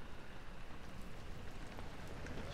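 Steady rain falls in the horror video game Amnesia: The Dark Descent, an even, hissing wash of drops heard alone and at moderate level throughout.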